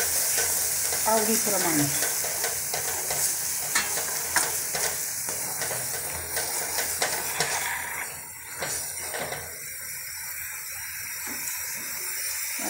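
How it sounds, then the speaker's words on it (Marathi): Kashmiri red chili sizzles in hot oil in a pan and is stirred, giving a steady close frying hiss with scraping strokes and brief clinks throughout. "माझी काश्मीरी लाल मिरची आहे, ते थोडी मी टाकून घेणार आहे"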